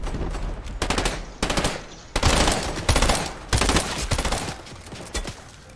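Automatic weapon fire in Fortnite crackles out in several loud, rapid bursts separated by short pauses, each volley a dense string of close-range shots with no talking over it.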